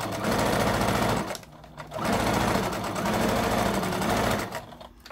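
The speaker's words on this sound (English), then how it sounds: "I like to backstitch a little bit right there at that nose portion" Sewing machine backstitching over the nose portion of an arched fabric face mask, with close, rapid stitching in three bursts separated by short pauses.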